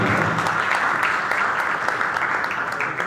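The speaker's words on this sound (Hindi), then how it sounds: "मैं चाहूंगा जोरदार तालियों से इनका स्वागत करना" Loud, sustained applause from a large crowd, steady clapping filling the whole stretch without a break.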